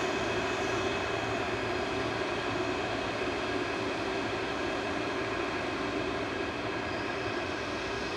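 Jet2 airliner holding on the runway at Manchester Airport before takeoff, a steady broadband engine roar that stays even and fairly loud throughout, with no talk over it.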